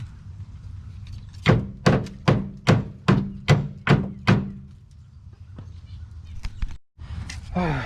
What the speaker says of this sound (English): I had to hit it with a hammer a little bit